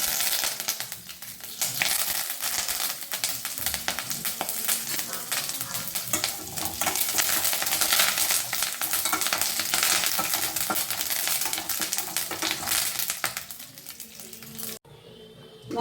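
Dried red chilies and curry leaves sizzling in hot oil for tempering a Kerala banana stem kootu curry, a loud dense crackle with spattering pops that cuts off abruptly near the end.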